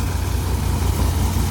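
A tractor engine, a 3600 model, runs steadily while driving a Nataraj thresher with a 2.5-foot drum, threshing pigeon peas in a field; a continuous, loud low rumble with no talk.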